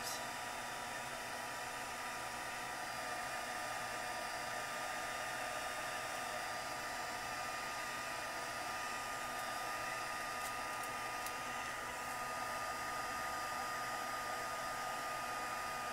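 Heat tool melting embossing powder on paper, a steady, loud, close blowing roar that holds unchanged for the whole stretch with no talk.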